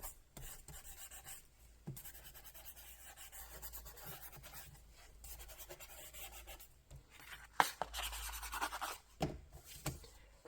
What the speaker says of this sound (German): Wir können auch mit so einem kleinen Schleifblock hier mal so ein bisschen rüber.